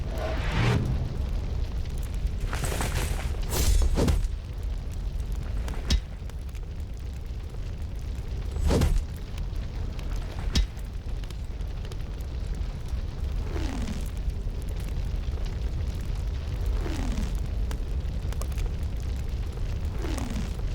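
A castle wall breaking under siege attack in the Rising Lords strategy game, with a low rumbling battle bed and several sharp crashing impacts spread across the stretch, mid-distance and moderately loud.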